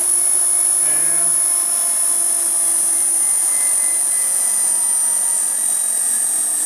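An Okamoto IGM-2M internal grinding machine runs with a loud, steady high-pitched whine and a constant motor drone, close and unbroken throughout.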